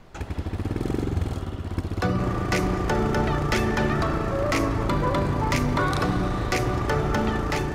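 A Royal Enfield Himalayan motorcycle starts and pulls away, its engine idling loudly and closely before settling into a steady running drone, with background music underneath throughout.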